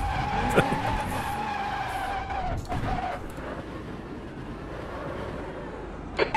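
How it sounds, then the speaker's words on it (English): Tires squeal and screech from a race car spinning its rear wheels out of a corner in the racing game Automobilista, a sustained skid over the engine's drone with a few sharp knocks. "We're seeing rear wheel spin on the exit of turn 2"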